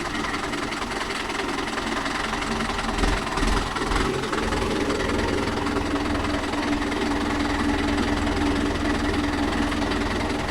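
A Mahindra Yuvo Tech Plus 585 4WD tractor engine runs steadily with a loud, continuous low rumble and knocking drone while pulling a 9-tine cultivator, sustained throughout without a break.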